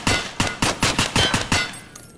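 An M4 rifle fires in Escape From Tarkov, about eight loud close shots at a quick steady rhythm before stopping.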